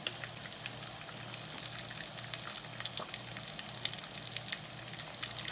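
Fresh rainbow trout fillets fry in a hot pan with oil, giving a dense, steady crackling sizzle with tiny popping spatters throughout, close and continuous, with no voices.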